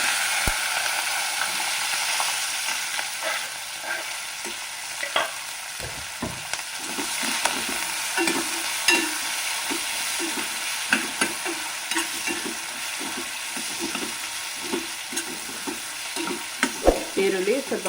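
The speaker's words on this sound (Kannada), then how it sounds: "ಈರುಳ್ಳಿ ಸ್ವಲ್ಪ ಫ್ರೈ ಆಗಬೇಕು." Chopped onions with green chillies and curry leaves frying in a pan for potato palya, a constant close sizzle with repeated scraping stirs and clinks of the spoon against the pan, no voices.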